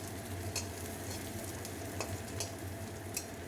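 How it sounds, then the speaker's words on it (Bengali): Chopped onion fries in hot oil for a fish curry, a steady sputtering sizzle with a low hum underneath and occasional sharp crackles, close and with no talking. "একটু পেঁয়াজ কুচি তেলে দিচ্ছি।"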